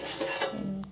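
Mushroom curry with coriander leaves being stirred in a pan, a close, steady scraping and rubbing of the spoon through thick sauce for about a second, with no voices.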